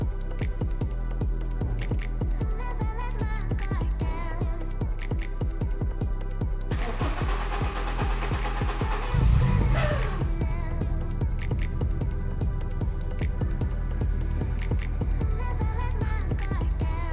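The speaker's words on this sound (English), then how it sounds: "now I'm going to flick the key, get the fuel pump priming, get some fuel into the rail" A Renault Clio 172/182 engine being fixed for a misfire starts with a brief cranking burst, then settles into a steady idle, its rhythmic pulsing running on alone after the start.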